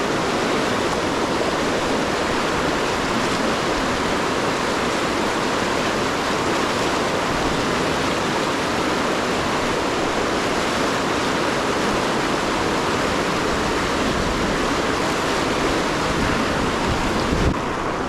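River water rushes loudly over rapids and waves around a small kayak, a dense, continuous roar with no pauses and no voices.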